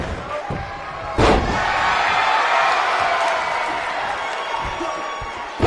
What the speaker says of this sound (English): Oh, what a side slam.